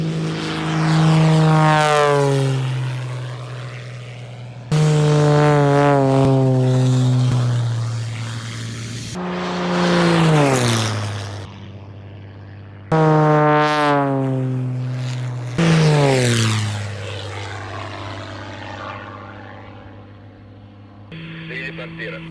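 Racing propeller airplane making repeated loud close passes, each starting as a rising engine drone and then falling sharply in pitch as it sweeps by. About five passes in a row with short breaks between them.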